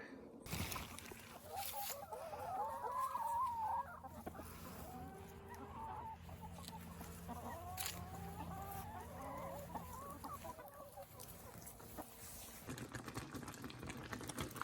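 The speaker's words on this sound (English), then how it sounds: "I've got a lot of scraps to take out to the chickens" Chickens cluck and murmur steadily nearby for a long stretch, with soft rustling around them and a faint voice now and then.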